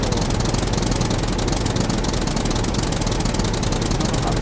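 A tractor engine runs steadily nearby with a dense, loud, continuous mechanical clatter and rapid knocking pulse, no voices over it.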